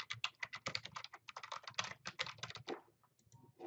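Rapid keystrokes clatter on a computer keyboard as a search topic is entered, a quick uneven run of close, crisp clicks that slows and stops near the end.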